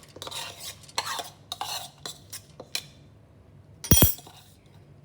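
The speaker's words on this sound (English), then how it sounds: "I'll be adding this dal" Dal and chopped vegetables with turmeric, Kashmiri chili powder and salt go into a pressure cooker for Kerala sambar: several soft clinks and scraping stirs of a spoon against the metal pot, then one sharp louder clank near the end.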